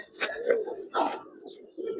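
Giribaz pigeons cooing at a market stall, a few soft low coos in short bursts, fairly close, with faint chirps between.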